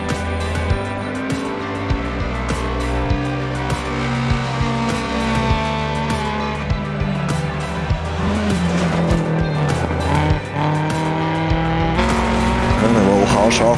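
A Lancia Fulvia HF rally car in DiRT Rally 2.0 drives hard, its engine droning loudly and steadily, with tire squeal and skids on gravel and a voice talking over it.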